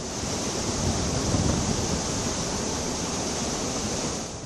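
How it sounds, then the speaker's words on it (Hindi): Water rushes at full force from the opened gates of the Kaliyasot dam after torrential rain, a loud, unbroken roar with no pauses and no voices. "डैम के दरवाजे खुलते ही पानी पूरी रफ्तार से निचले इलाके की तरफ बह रहा है"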